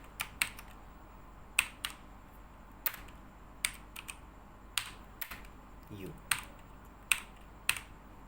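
Keys tapped on a computer keyboard while typing code, irregular clicks spaced out over several seconds, close and fairly quiet against a low room hiss.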